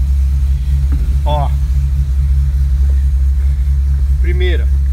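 Worn-out Volkswagen Saveiro pickup idling with a steady low engine rumble, while someone speaks briefly over it between gear changes during a gearbox swap.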